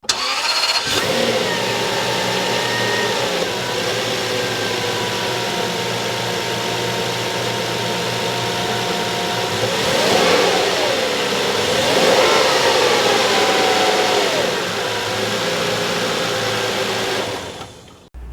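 A rare Toyota V12 engine cranks and catches, then settles into a smooth, even idle and rises in two revs before easing off and shutting down near the end, heard alone and close.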